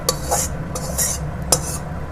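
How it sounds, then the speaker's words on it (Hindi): A spoon scrapes hot ghee out of an iron kadhai onto gond for gond laddoos: three close, metallic scrapes and clinks at a steady pace, over a faint continuous sizzle. "पूरी कढ़ाई खाली कर लें आप"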